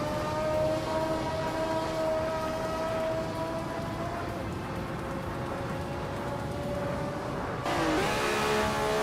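A 1982 Lancia LC1 race car engine drones in a racing video game, a steady loud tonal whine that holds and shifts pitch, with a brief change near the end.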